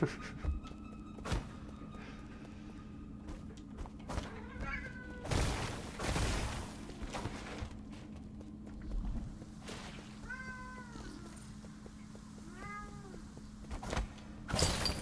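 Several short meows repeat through the clip with pauses between, over a steady background hum and scattered thuds and bumps.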